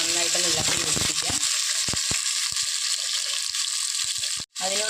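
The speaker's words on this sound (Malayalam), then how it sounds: "ഇതെല്ലാം കൂടെ നന്നായിട്ടൊന്ന് ഇളക്കി യോജിപ്പിക്കുക" Ginger and salt stirred into a pan of ivy gourd and mango curry over a medium flame, a steady close sizzle with scraping stirs and spoon knocks, loudest in the first second and a half.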